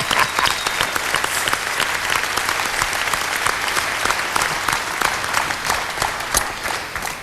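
Steady, dense clapping from a TV telethon crew, including a boom operator, fills the space nearby without letup, with no speech over it.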